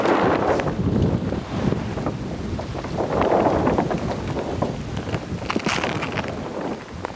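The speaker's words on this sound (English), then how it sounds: "I'm going to roll the sail out." A MauiSails Mutant 4-batten windsurf wave sail being unrolled, giving continuous rustling, flapping fabric noise with a few crisp crinkles, close and fairly loud, with no talking.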